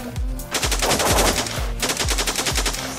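An MP7/XM8 fires rapid, loud automatic bursts in the shooter game Blockpost, with evenly spaced shots repeating close up and no talking.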